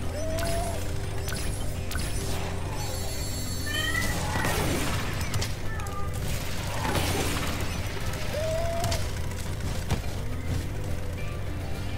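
Cartoonish cat meows in the video game Spyro 2, a few short rising mews spaced several seconds apart over continuous game music and mechanical effects.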